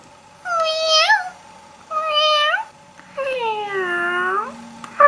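A teenage girl imitates a Pokémon's cat-like meow, voicing three drawn-out, wavering meows close to the microphone, the last one longest and bending downward.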